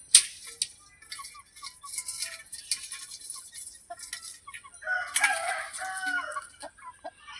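A small flock of four chickens, one rooster and three hens, cluck and squawk in scattered bursts, close and moderately loud, with a rooster crowing amid the calls.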